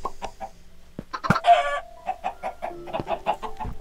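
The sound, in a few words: chickens clucking in a video game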